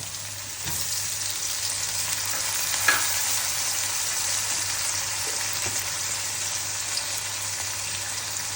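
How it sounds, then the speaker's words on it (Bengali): Spices with ginger and garlic paste sizzle and fry in a pan for a beef and brain curry, a steady crackling hiss with occasional stirring scrapes, close and continuous. "আমি সব মশলা দিয়েছি, কষাচ্ছি এখন"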